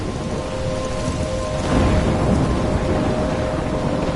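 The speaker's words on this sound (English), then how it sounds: "In a storm?" Heavy rain pours steadily throughout with a deep rumble of thunder swelling partway through, loud and close with no voices.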